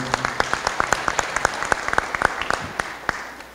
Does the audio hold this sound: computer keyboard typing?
no